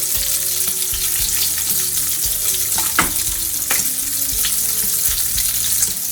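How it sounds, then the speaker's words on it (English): Bacon sizzles and crackles steadily in a hot pan, with occasional pops and the scrape of stirring over the constant frying hiss. "Nothing better than the sound of bacon cooking"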